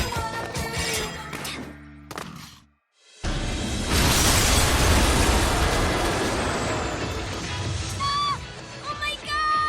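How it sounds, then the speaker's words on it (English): Bomb-wrapped zombies blow up in the video game Lollipop Chainsaw, a brief cut to silence followed by a long, loud, dense explosive roar with crashing debris that trails off. "their bodies are wrapped with bombs. We need to hit him and run away before they explode"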